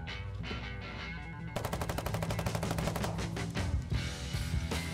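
Automatic rifle gunfire from the video game Foxhole, rapid bursts of evenly spaced shots that start after a quieter opening and continue loud and close for the rest of the stretch, with no talking.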